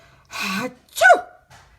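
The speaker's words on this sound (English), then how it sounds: "Amos woke with a sneeze." A single sneeze from Amos McGee, a sick zookeeper: a sharp intake of breath, then a loud burst and a faint trailing sound. It is close and clear, with no other sounds around it.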